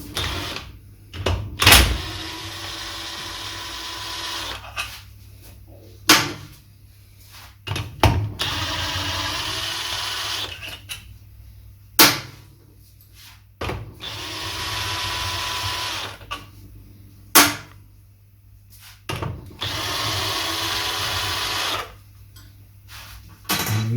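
An air-powered impact wrench undoes the rocker box nuts on a Triumph Trident T150V engine. It gives several short, loud bursts a few seconds apart, with quieter workshop pauses between them.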